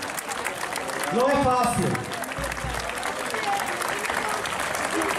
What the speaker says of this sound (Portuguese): O vosso aplauso, esta madrinha cantou quase 5 minutos seguidos